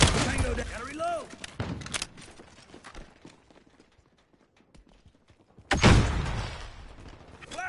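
Gunfire from a PS4 shooter video game comes in loud bursts at the start and again near the end, with a quieter lull between, mixed with game voices and effects.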